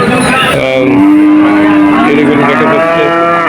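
A long, low cow moo rises over a noisy crowd at a cattle market in Satkhira Sadar, with people talking throughout.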